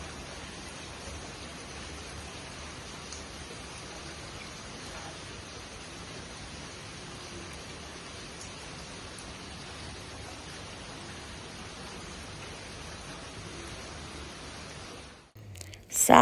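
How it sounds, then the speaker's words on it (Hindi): Steady rain falls at night outside a home kitchen, an even hiss that continues unchanged for a long stretch, ending abruptly with a brief louder noise. "साथ-साथ हो रही थी बारिश"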